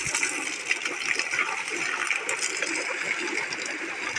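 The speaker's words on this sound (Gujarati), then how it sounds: "અને આ ટાંકામાંથી જો પાણી આવે છે" Water gushes steadily out of a tank on a farm field, a continuous close rushing flow with a faint bubbling texture and no pauses.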